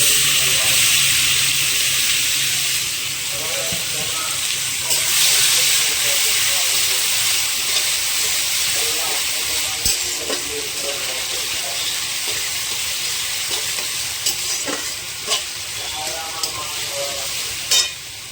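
Chopped onions fry in a pan for butter chicken curry, a steady broad sizzle and hiss running throughout, with occasional stirring scrapes and faint clicks layered over the continuous frying.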